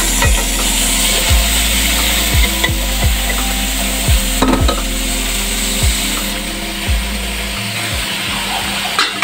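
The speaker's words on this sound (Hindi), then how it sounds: "कीमा डालने के बाद इसको अच्छे से फ्राई करेंगे।" Minced meat fries with onions in a pan, giving a continuous loud sizzle broken by regular knocks and scrapes of a spoon stirring against the pan, without any talking.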